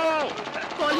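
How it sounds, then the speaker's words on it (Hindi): Machine gun fire in a Hindi-dubbed Hollywood action movie, Bermuda Triangle: a rapid, rhythmic rattle of shots mixed under loud shouting voices for about a second. "गोलियां चलाओ।"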